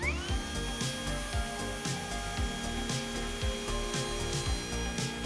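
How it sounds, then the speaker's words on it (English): A router spins through a hinge mortise in a wooden door, giving a steady loud high whine. Repeated rough cutting bursts roughly every half second sound as the bit passes along the wood. "When routing, since the router bit is turning clockwise, you always want to route the same direction of the router bit, from left to right."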